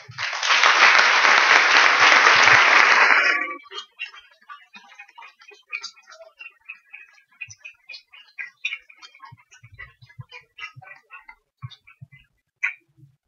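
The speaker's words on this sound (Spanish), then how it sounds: "un aplauso para él" An audience at a literacy congress conference applauds a speaker with a loud burst of clapping lasting about three seconds. It breaks off abruptly into scattered faint ticks and clicks in a quiet hall.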